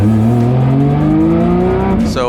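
A Formula Drift car at St. Louis slams up a hill with a loud, sustained engine roar whose pitch climbs steadily, ending in a brief rasp.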